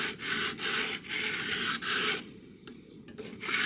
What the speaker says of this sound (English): I'm actually filing or leveling the frets with